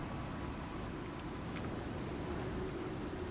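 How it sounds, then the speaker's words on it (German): Light rain falls steadily in the survival game Icarus, a soft, even hiss of patter that stays constant and low throughout with no voices. "Ist also wirklich nur sehr, sehr leichter Regen."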